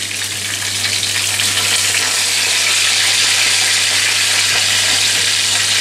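Fish in a semolina crust is turned in a hot pan, and a loud, steady, close sizzle of frying fat runs throughout with no talk.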